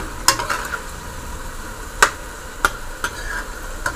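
Barbecue beef with eggplant and tomato cooking in a pan, a steady soft sizzle under a few sharp utensil clinks and taps spaced apart.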